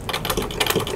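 A sewing machine stitches along a fabric edge while an 18th-century-style pocket or petticoat is made, giving a fast, close, rattling run of needle strokes with no pauses.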